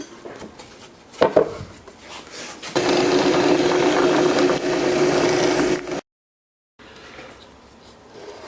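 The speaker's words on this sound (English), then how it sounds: "I will now use a small bit to drill through all these holes" A small drill bit bores through pre-drilled holes in wood, a steady loud whirring grind lasting a few seconds after light handling knocks, then a brief silence and quieter shuffling.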